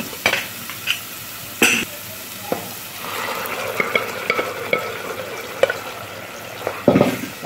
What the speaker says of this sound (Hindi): और इस चने को इसमें डाल देंगे।